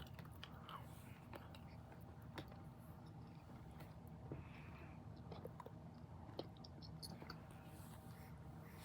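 A bite is taken from a sweet food strip and chewed right at the microphone, a very quiet run of soft, moist crunches and mouth sounds over a faint steady hiss.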